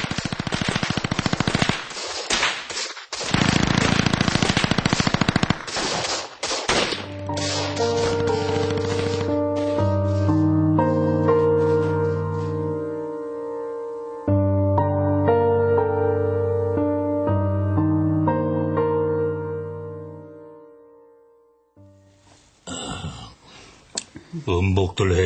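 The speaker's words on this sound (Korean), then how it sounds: "저 멀리 아득하게 일제사격 총소리가" A distant volley of soldiers' gunfire, staged as a radio-drama sound effect, crackles in dense bursts early on before fading beneath sustained, swelling musical tones.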